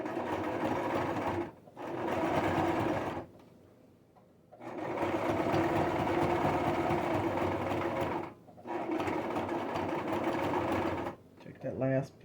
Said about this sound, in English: stitch it together with the zigzag